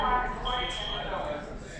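Fire alarm sounding inside a building, a steady high electronic tone heard at a distance under a person speaking nearby.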